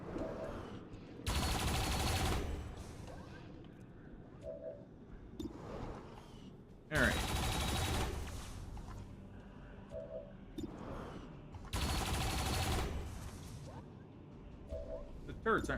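Mounted turret gunfire in the video game XCOM 2 comes in three loud, rattling bursts of a second or so each, separated by quieter game sounds.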